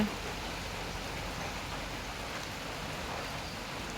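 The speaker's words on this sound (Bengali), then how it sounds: "এই যে বৃষ্টি নামছে রাত্রে থেকে বৃষ্টি হইতেছে" Steady rain falls through the night in a rural Bangladeshi home area, a dense, even hiss of drops on surfaces that holds at a constant level throughout with no voices.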